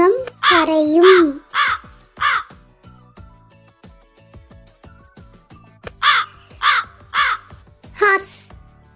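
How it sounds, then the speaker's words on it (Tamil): A crow caws harshly in two bursts of several calls each, loud and close, with a voice speaking briefly at the start. "காகம் கரையும்."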